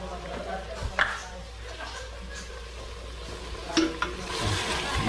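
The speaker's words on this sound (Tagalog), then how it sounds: "lagyan na natin ng tubig para sa sabaw niya" Hot water is poured into a pot of chicken and yellow chicken fat to make broth, giving short splashing bursts and a gurgling pour, close by, while a voice talks over it.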